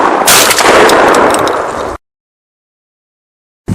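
A single loud blast from a Beretta shotgun with a choke and a 760 mm barrel, firing a 32 g load of No. 3 shot in a 70 mm shell at a target 35 m away. The report rings briefly, then cuts to silence.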